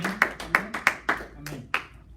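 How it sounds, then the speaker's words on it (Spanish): Several sharp claps from a church congregation in an evenly spaced rhythm, about six beats over two seconds, fairly close and moderately loud, with a voice speaking faintly underneath. "Denle un fuerte aplauso a nuestro Dios"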